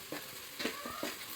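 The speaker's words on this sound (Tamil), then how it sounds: "நல்லா அது கோல்டன் ப்ரௌன் வர்ற வரையும் நல்லா வதக்கிக்கோங்க." Onions and green chillies sautéing in hot oil for fried rice give a short, soft sizzle with a few stirring scrapes, close by and fairly quiet.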